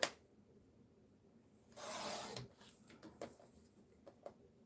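Paper being cut for a craft journal makes a faint scraping, rasping swish in a quiet room, with soft scattered ticks and rustles around it.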